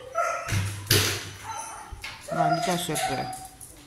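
A few short dog barks and yips sound nearby inside a dog boarding kennel, mixed with people talking and a thud.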